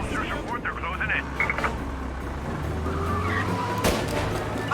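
In the video game Mafia: Definitive Edition, a car speeds along and its tires squeal and skid in long screeching slides over a steady engine drone, with voices talking over it.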